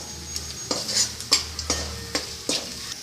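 Spoonfuls of masala for dal panchali scraped and stirred in a hot pan, several sharp scraping strokes over a steady low sizzle, close and fairly clear.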